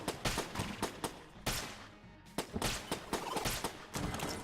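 Priest bulletkin fire bouncing bullets in Enter the Gungeon, a rapid barrage of sharp gunshot cracks in an irregular burst with a brief lull midway, loud and dense.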